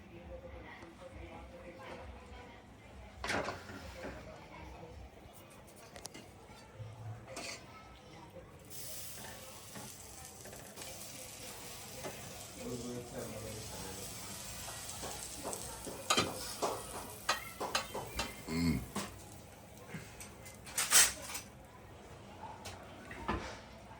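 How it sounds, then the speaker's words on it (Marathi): Bhakri flatbread cooking on a hot griddle, a low, faint sizzle and hiss that swells in the second half, broken by scattered taps and pats, with someone talking intermittently over it. "तवा तापलाय, आता मी टाकते भाकरी."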